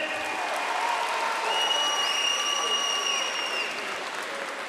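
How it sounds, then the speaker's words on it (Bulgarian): Steady audience applause fills an MMA event hall at MAXFIGHT 37 as fighter Radoslav Karashev is introduced. The dense, even clapping holds for the whole stretch, with thin sustained tones sounding above the crowd. "Аплодисменти за Радослав Карашев!"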